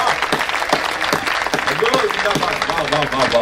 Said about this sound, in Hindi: और एक टिप्पणी पर आपकी तालियां उठें